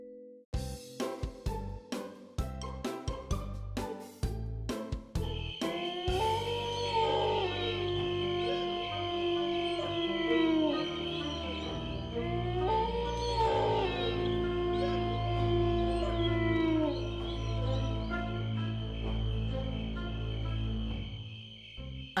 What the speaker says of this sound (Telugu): ఆ మంచు కుక్క అసలు నిద్రపోలేదా ఏంటి?